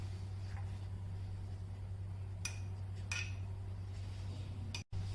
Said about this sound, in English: Take a bowl and mix all the ingredients.